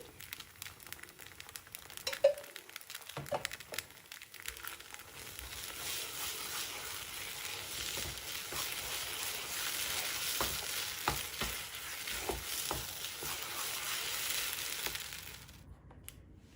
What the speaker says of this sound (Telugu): దీనిలో పైన 1 స్పూన్ నెయ్యి వేసుకుని కలుపుకుందాం.